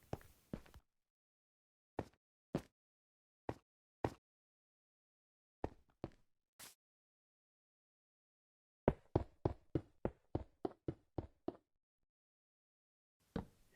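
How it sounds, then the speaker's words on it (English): Light blue terracotta blocks being placed and stepped on in Minecraft: soft, dull knocks spaced out one by one, then a quicker run of about a dozen close taps, each clean and isolated against silence. "Next we'll be placing some light blue terracotta."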